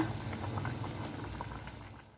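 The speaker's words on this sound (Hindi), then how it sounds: "मेरी स्पैगेटी बहुत अच्छे से उबल चुकी है" Spaghetti boiling in a pot of water, a steady soft bubbling and popping that stays close and even for a couple of seconds, fading slightly toward the end.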